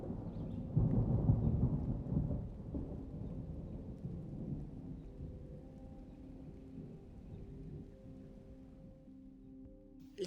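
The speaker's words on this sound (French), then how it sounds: "Les nuages noirs sont très menaçants et une pluie assez forte se déverse sur la campagne." Thunderstorm over open countryside, with rolling thunder booming loudest early on over steady heavy rain, then easing into a continuous rain wash while the rumbles fade into the distance.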